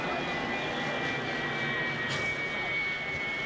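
Aircraft passing overhead near O'Hare International Airport in Chicago, a steady broad engine roar with a faint high whine, continuous and fairly distant throughout, with crowd murmur in the background.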